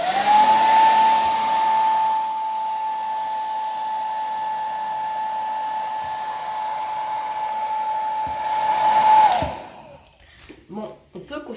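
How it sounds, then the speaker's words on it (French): A household hair dryer blows with a continuous whooshing whine and steady motor tone for about nine seconds, then cuts off, followed by a few faint handling noises. "c'est toujours le sèche-cheveux de ma mère"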